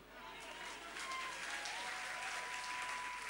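Audience applause in a church-style gathering, a steady wash of clapping that swells slightly after the first second and holds loud and continuous throughout.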